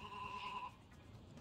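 Sheep bleating in the video game Sheep, Dog 'n' Wolf, a single short wavering bleat at the start, then fading into a low game background hum.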